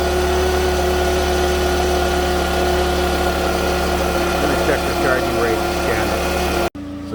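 A 2009 Pontiac Vibe engine idles steadily with a noise in it, a loud continuous hum and rattle heard up close for several seconds before cutting off briefly at the end.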